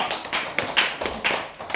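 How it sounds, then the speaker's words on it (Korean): Small group in a Korean business meeting clapping hands, with about eight short bursts of claps in a loose rhythm, close and clear, with no talk over them. "박수 한번 주세요"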